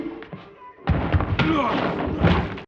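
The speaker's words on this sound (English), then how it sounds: "Dang. That wet thud," A wet thud lands in a dramatic scene from Interview with the Vampire season 2, a loud dull impact amid rumbling scene noise and brief voices, after a quieter lead-in.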